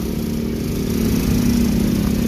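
Overloaded motorcycle engine straining on a road during heavy holiday return traffic, a loud, continuous low labouring drone with a rough rattle that swells slightly and never lets up across the short stretch.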